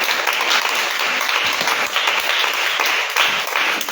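A church congregation applauds and cheers in praise during a worship service, loud continuous clapping filling the room with a few voices mixed in.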